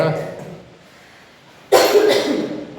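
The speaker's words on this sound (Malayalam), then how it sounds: "പനിയുടെ ആഫ്റ്റർ എഫക്റ്റ് ആണ് ഈ ചുമ കേട്ടോ." A child's lingering cough after a fever, one sharp burst of coughing near the microphone following a quieter stretch with soft voices at the start.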